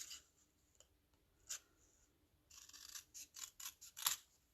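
Scissors trimming paper for a Valentine craft, a few faint, close snips and crisp cuts scattered over a quiet background, with a cluster of quicker cuts near the end and no voices.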